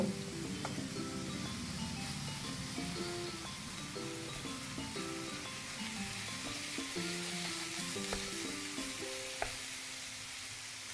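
Fried pointed gourd (potol) sautéed slowly with yogurt in a pan for tel potol, giving a steady broadband sizzle with occasional utensil clinks, continuous and fairly close under faint background music tones.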